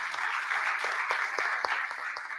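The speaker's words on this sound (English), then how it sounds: "Clap for him, please." An audience at a youth ecopreneur award finals claps steadily, a dense, even wash of applause from a moderate-sized crowd with a few sharper individual claps standing out.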